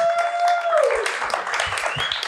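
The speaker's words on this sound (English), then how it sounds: "Can we please just give the panelists one final round of applause?" A workshop audience applauds the panelists in a short burst of clapping, mixed with whistles and cheering voices.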